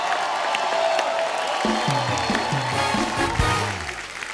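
Studio audience at a comedy show claps and cheers steadily, a full crowd wash that continues as music with a rising tonal line enters partway through.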